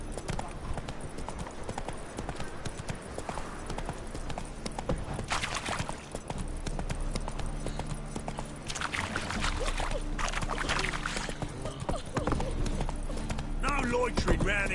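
Roach the horse galloping in a video game, a steady rhythmic clip-clop of hooves with game music and a voice speaking over it, with splashy water-like sounds partway through.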